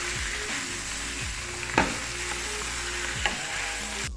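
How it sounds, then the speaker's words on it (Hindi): Small pieces of boneless chicken sizzle and fry steadily in hot oil, a continuous crackling hiss with a few sharper pops and low stirring scrapes underneath, close and alone without talk. "इसको अच्छी तरह इसमें फ्राई कर लें।"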